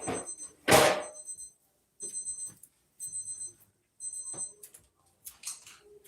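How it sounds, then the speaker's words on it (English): A kitchen timer rings in short repeated bursts while chicken and naan cook, the electronic tones coming in several evenly spaced groups with a louder clatter near the start and quiet pauses between rings. "Yes, timer, I hear you."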